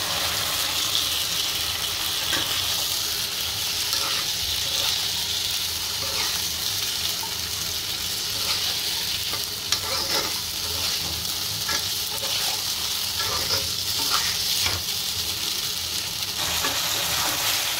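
Drumstick stalks and potatoes tumble into a spice paste frying hard in a pan, making a steady loud sizzle with scraping stir strokes and an occasional clatter, no talking.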